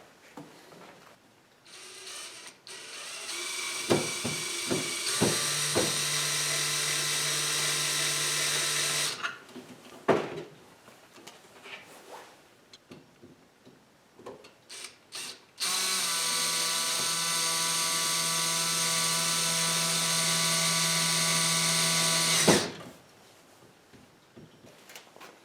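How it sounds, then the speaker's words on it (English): A tool drives a screw to fix a part onto a portable fish finder setup. A steady mechanical whir runs in two long bursts, with short clicks and handling noises around them, and no talk. "I'll screw this in right here"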